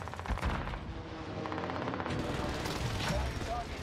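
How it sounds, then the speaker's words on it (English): A precision airstrike in a first-person shooter video game sounds as dense, continuous rapid gunfire and blasts at full loudness, and the players are talking under it. "Allied precision airstrike incoming."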